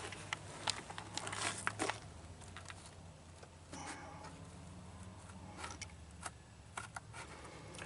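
Old handmade scissors, about 40 to 50 years old, snip and crinkle through a speaker panel for a Mercedes-Benz 300TD W123, giving quiet irregular crunchy cuts and rustles close by.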